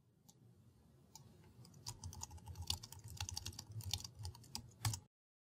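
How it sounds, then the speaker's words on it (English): Close, soft clatter of fingers typing on a computer keyboard, irregular keystrokes building to a denser burst and then stopping abruptly. "First, we'll type in some new text"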